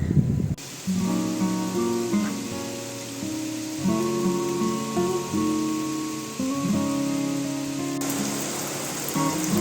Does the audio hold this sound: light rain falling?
yes